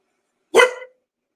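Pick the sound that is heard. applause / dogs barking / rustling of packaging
dogs barking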